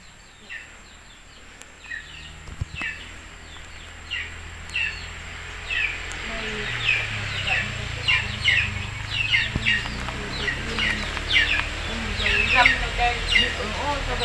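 Chickens cluck repeatedly in short bursts, close by, while people talk softly in the background.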